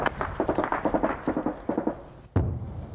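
Rapid bursts of gunfire crackle in a close-quarters battle between Ukrainian and Russian troops near trenches, a fast rattling volley followed by a short pause and a single heavier boom.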